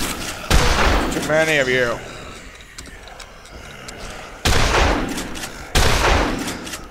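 Gunfire from the zombie game Dead Island comes in loud, sharp bursts near the start and again toward the end, with a quieter stretch between. Someone talks over the opening shots.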